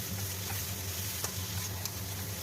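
Fried potatoes stir into a spice paste cooked with tomato sauce in a pan, making a soft, continuous sizzle with a couple of faint scraping clicks, quiet and without talk.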